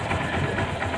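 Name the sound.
B125 motorcycle engine running after repair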